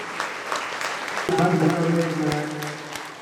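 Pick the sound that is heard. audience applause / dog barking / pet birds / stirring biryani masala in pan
audience applause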